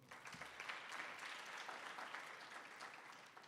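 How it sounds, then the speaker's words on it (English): Faint, sustained applause from a summit audience rolls on evenly for a few seconds, soft and distant in tone with no voices standing out. "please give him a round of applause."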